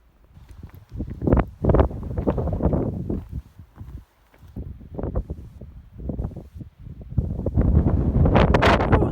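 Wind buffets the microphone on a mountain trail of the Appalachian Trail in New Hampshire or Maine, rising and falling in loud rumbling gusts that grow stronger toward the end.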